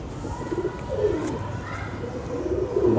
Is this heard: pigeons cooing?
yes